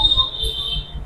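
A timer-expiry alarm sounds during a class session, a steady, loud high-pitched electronic beep tone held continuously throughout with low background rumble beneath it.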